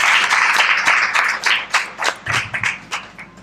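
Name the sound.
audience applause for a doctor at a webinar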